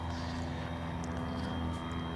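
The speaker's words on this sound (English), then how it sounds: "little small plane taking off." A small propeller plane takes off near an airport, a steady droning engine roar at moderate distance that holds constant throughout without any talk over it.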